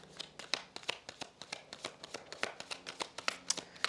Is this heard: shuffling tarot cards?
yes